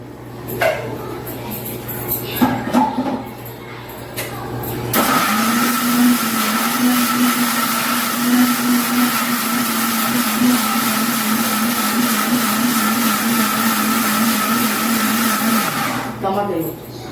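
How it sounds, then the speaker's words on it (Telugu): A mixer grinder blitzes green chillies with masala in its jar, a loud steady motor whine running for about eleven seconds after a few seconds of voices and handling noise, then stopping. "పచ్చిమిరకాయలు దీంట్లో వేసి 2 మిక్సీ వేస్తా ఫ్రెండ్స్"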